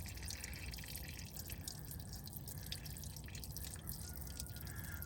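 Water drains from the transmission rear axle plug on a VAC tractor, a quiet, continuous splashing trickle with scattered drips, steady and faint.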